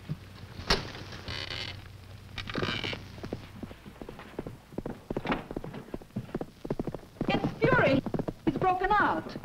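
Hooves clip-clop in an uneven rhythm alongside creaking, while people talk over the sounds.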